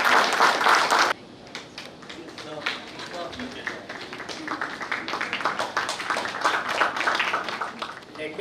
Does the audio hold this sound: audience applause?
yes